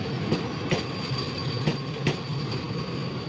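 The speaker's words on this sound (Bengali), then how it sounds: "আর এই দিক দিয়ে চলে আসছে এখন অযোধ্যা ধাম আনন্দ বিহার বন্দে ভারত এক্সপ্রেস" Ayodhya Dham–Anand Vihar Vande Bharat Express, an 8-coach train, rushing past near Govindpuri station before Kanpur, with a steady loud roar and rhythmic wheel clacks over rail joints throughout.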